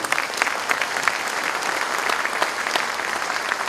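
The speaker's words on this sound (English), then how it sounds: "A big applause for all of them" Steady applause from a large audience at a convocation ceremony, dense continuous clapping with no voices, holding at an even level throughout.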